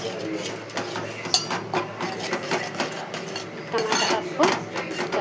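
A spoon clinks and scrapes against a metal pot in quick, irregular strokes while chilli powder and salt are stirred into tomato dal curry, with kitchen clatter close by.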